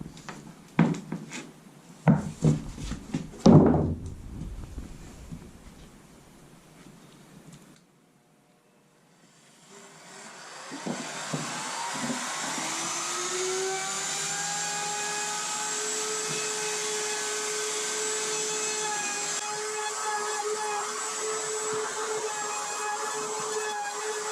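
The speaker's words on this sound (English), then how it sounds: "we'll flip this over and we'll router the other edge" A wood router runs steadily along the edge of an old barn door being made into a rough work table, a loud continuous whine after a few knocks and handling sounds, with no talking.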